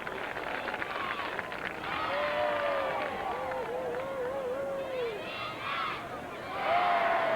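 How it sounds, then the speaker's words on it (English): Crowd at a high school football game heard from the press box, a continuous murmur of cheering below with cheerleaders chanting in rhythm and a voice talking over it. "Hear the crowd down below"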